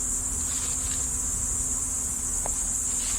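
Honey bees swarm around an opened beehive during hive work to fix cross combing, a steady, dense buzzing drone that holds throughout, close and continuous with no talk.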